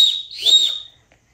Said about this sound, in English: So first let's get started with the whistle car.